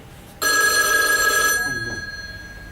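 A telephone bell in a prison office rings once in a single sustained burst, loud and close, then decays into silence.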